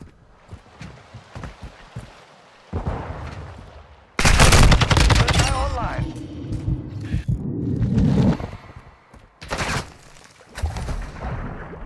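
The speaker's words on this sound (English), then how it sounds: "Oh, they're shooting." Video game gunfire crackles in bursts and rapid volleys, loud and close, with heavy sustained shooting in the middle and sharp shots near the end, under occasional brief talk.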